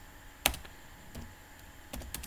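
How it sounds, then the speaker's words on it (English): A few sparse keystrokes on a computer keyboard while entering a git command in a terminal, quiet close clicks with one sharper tap and short gaps between presses. "I'll just type it"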